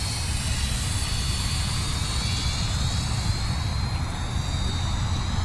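Flyzone Fokker Dr1, a radio-controlled model triplane, flying with a steady, continuous motor drone and broadband rushing noise throughout, fairly loud with no talking.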